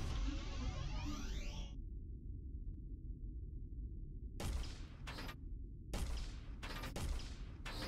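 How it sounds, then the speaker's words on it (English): Turret gunfire in the video game Ricochet Revolt: a dense burst of rapid crackling fire at the start, then after a lull several separate loud shots and short bursts over a low rumble. "It will deflect the turret's shots."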